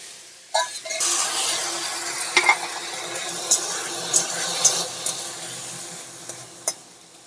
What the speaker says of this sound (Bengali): আলুগুলো সেদ্ধ হওয়ার জন্য আমি সামান্য একটু জল দিয়ে দেবো।